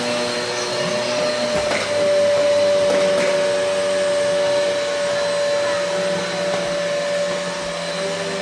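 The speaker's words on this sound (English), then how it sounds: "Move this vacuum in front," A vacuum cleaner runs continuously on a floor at home, a steady, loud whining drone with a few faint knocks as it is pushed back and forth.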